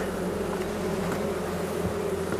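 Dense, steady buzzing of many honey bees close by at a weak, varroa-infested hive, a continuous hum with no voices.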